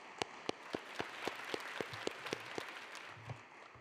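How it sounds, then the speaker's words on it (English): Scattered, fairly quiet clapping from a conference audience at a university event, honoring live demos by a smart-technology team; distinct individual claps in an uneven rhythm rather than a dense ovation. "So I think we should give Ed and the KAUST Smart team another round of applause for their live demos."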